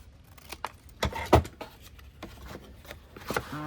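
Scissors cut a paper craft piece to size for a shadowbox, several crisp close snips and crinkles in an uneven rhythm, with handling noise around them.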